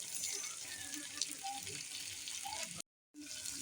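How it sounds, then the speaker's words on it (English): Water pours steadily with a bright, splashy hiss, briefly cutting out near the end before resuming. "We are now adding some water."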